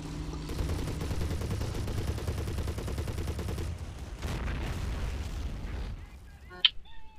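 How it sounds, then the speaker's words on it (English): Artillery firing HEAT rounds in the video game Men of War, with the Hummel nearby: a dense, rumbling wash of distant explosions and rapid gunfire that runs steadily, then thins out near the end. "So there's some heat rounds going in"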